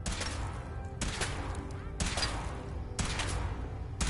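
Bursts of weapon fire from the video game Fallout 4 come in three or four dense, loud volleys, each starting abruptly about a second apart, with a steady roar of noise between them.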